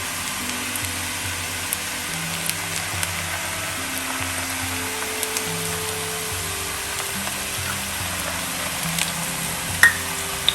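Yam pieces frying in hot oil, a continuous close sizzle and crackle with occasional louder pops, steady throughout without talk.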